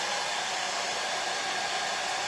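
A hair dryer runs steadily at a craft table, a continuous airy whir held at an even, moderate level with no voices over it.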